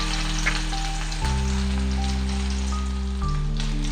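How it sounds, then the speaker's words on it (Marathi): Vegetables and green chilli fry in a pan for an appe recipe, giving a steady, close, loud sizzling hiss over a low hum, with no voices. "ज्या भाज्या मी तुम्हाला सांगितल्या होत्या त्या मी थोड्याशा फ्राय करून घेणार आहे"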